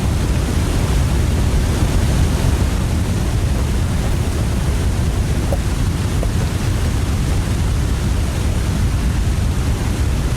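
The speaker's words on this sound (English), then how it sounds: "I thought that having waterfall sounds was pretty odd." Waterfall ambience in a winter survival video game by a ravine, a loud, constant broadband rush of falling water with no breaks and no voices.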